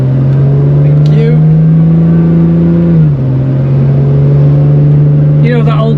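A 1-of-1 Aston Martin DB7 engine hums steadily from inside the cabin as the car accelerates to overtake, its tone holding then dipping and resettling midway; the engine drone is loud and continuous, with brief voices faintly over it.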